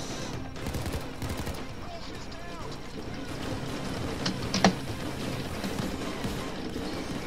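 Machine-gun fire in the heist video game Payday 2: dense, overlapping bursts of rapid shots with one sharper crack standing out, continuing under people talking.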